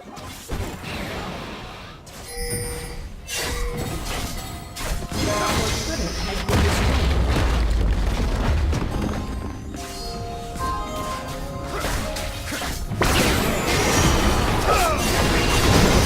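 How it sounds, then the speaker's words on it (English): A turret is destroyed in League of Legends, with a busy mix of crashes, shattering hits, whooshes and booms over the game's layered effects, while an announcer voice speaks over it. "Your turret has been destroyed."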